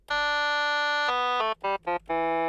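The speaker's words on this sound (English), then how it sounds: "I layered two of the woodwinds over each other." A sustained synthetic chord of two layered woodwind sounds with no effects holds steady, then shifts to new chords in short stuttering bursts, dry and clear with no talking.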